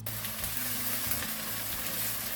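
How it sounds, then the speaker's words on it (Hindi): Aubergine and potato curry cooking in a pan, a steady close hiss of frying with faint low rumbling and no distinct stirring strokes. "इसमें हम थोड़ा सा चम्मच चला देंगे इसके बाद, ताकि ये इक्वली पक जाए।"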